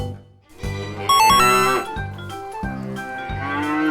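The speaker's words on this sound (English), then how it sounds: "cow" A cow moos loudly over a cheerful children's tune with a steady, rhythmic beat, with no talking.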